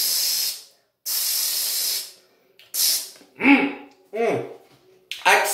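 Two long bursts of aerosol spray hissing, each about a second, followed by a few short spritzes while a voice talks over the end.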